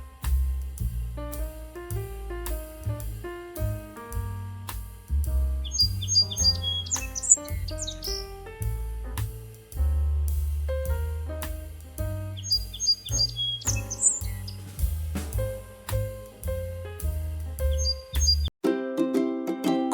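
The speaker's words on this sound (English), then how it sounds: "sparrow," Sparrow chirping: a steady run of short, bright chirps and tweets repeating throughout, with a few quick higher trills, under a backing of music notes and plucked tones.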